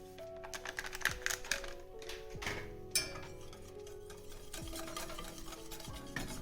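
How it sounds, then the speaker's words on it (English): Chocolate powder stirred into warm milk with a spoon, producing light repeated scraping and clinking taps against the cup, steady and close, with no voices. "Just make sure you stir it thoroughly so there are no lumps and clumps."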